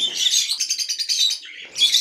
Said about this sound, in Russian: Сюда залетел неразлучник, здесь паника.